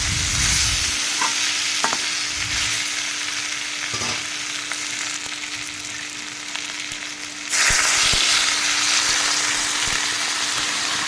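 Fish-head and vegetable chhechra frying in a pan gives a steady sizzle with stirring knocks, then hot water pours in and the hiss swells suddenly louder and brighter near the end.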